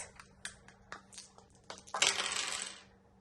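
Five dice clatter across a hard surface, with scattered clicks leading into a dense, loud rattle that tumbles for about a second and settles to stillness.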